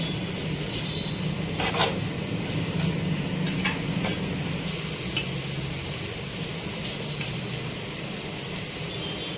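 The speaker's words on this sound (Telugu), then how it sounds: "అల్లం వెల్లుల్లి పేస్ట్ పసుపు వేసి బాగా ఫ్రై చేసుకోవాలి" Ginger garlic paste and turmeric frying in a pan for a prawn and raw mango curry produce a continuous close sizzle with occasional crackles and stirring scrapes.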